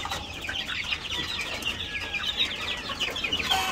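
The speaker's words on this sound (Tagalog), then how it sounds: "So yan yung mga sisiw natin, nagwawala na dahil nagugutom na." A flock of hungry young chicks chirps nonstop before feeding, with dense overlapping high peeps close by at a steady, agitated level throughout.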